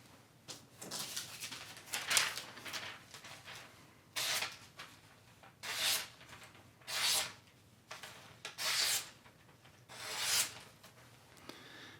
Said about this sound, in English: That, my friends, is how you sharpen a kitchen knife on the TS Prof.